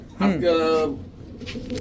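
A Pakistani teddy pigeon gives a single close, soft coo against a quiet background.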